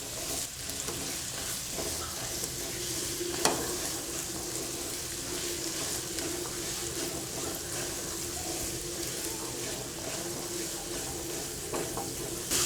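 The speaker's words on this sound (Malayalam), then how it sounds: "സവാളയും ചെറിയുള്ളിയും കൂടി നല്ലതുപോലെ ഒന്ന് വഴറ്റിയെടുക്കാം" Sliced onions and small shallots sauté in a pan over a medium flame, a continuous low sizzle broken by spoon scrapes and stirring knocks, with no talking.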